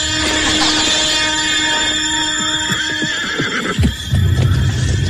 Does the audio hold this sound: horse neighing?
yes